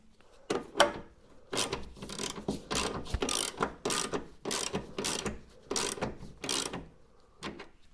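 A ratchet tightens a suspension bolt on a Mazda MX-5, about a dozen rapid clicking strokes in a steady back-and-forth rhythm, close and clear with no talk.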